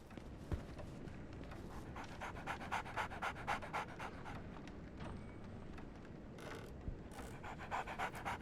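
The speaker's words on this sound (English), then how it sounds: "So, Barnes has a dog now" Dog pants in the video game Sherlock Holmes: The Awakened, a quiet, quick rhythmic series of breathy huffs running steadily through the passage with no talk.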